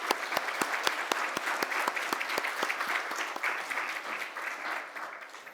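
A church congregation claps together during a Sunday worship service, a dense burst of hand claps in a large room that carries on steadily, then thins and fades toward the end.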